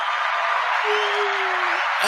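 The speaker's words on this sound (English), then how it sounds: "I was going to give you a round of applause then" A brief burst of applause at a festive wine club Christmas quiz party, a dense continuous patter of hands lasting about two seconds at steady loudness.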